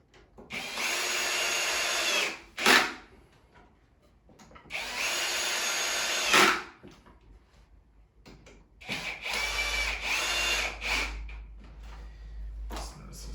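A power drill drives 2-inch screws into a wooden Montessori climbing triangle in three long whirring bursts, each ending with a sharp catch as the screw seats, separated by quiet handling noises.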